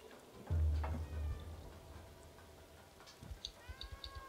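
A cat in the video game Stray gives a single low, close meow near the start, followed by quiet ambience with faint ticking and small clicks toward the end.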